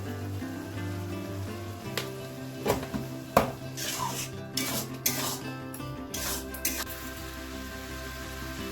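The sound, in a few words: ginger garlic paste and ground spices frying in a pan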